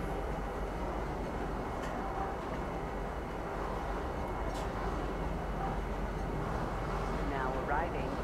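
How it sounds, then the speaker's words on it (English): A metro train on the spaceport line in Star Citizen rumbles steadily along, with a low continuous rolling drone and faint rail squeals, and a voice talking over it. "Now that we are on our way to the metro station on the spaceport line"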